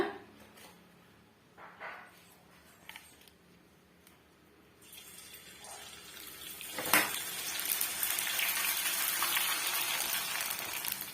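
Rice flour vadam dropped into hot oil sets off a loud, dense sizzling and bubbling that swells and holds steady, after a few light clinks of utensils.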